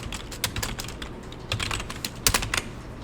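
Notes typed on a computer keyboard: quick, close bursts of crisp key clicks with short pauses, loud and alone with no voices.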